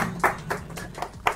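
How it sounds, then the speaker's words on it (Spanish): Thin, scattered clapping from a television studio audience welcoming a Colombian singer; a handful of quiet, uneven claps heard at a slight distance over low room noise. "le pedimos acá al estudio, a la platea, que nos dé un fuerte aplauso para recibirlo"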